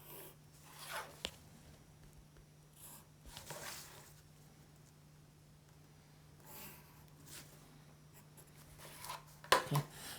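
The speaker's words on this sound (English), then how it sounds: "Now I'll draw that little triangle there at the side." Pen drawing the lines of a small triangle for a geometry diagram, a few soft scratchy strokes spread across otherwise quiet room tone, with a faint steady hum underneath.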